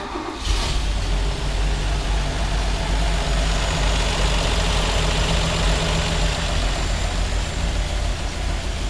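A 1966 Toyota FJ40 Land Cruiser engine catches and settles into a steady, rumbling idle that holds at an even level throughout, close to the microphone, with no talking.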